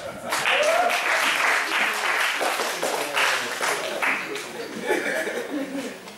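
A church congregation applauds and cheers for Jesus, sustained dense clapping with shouts and some laughter throughout, loud and close.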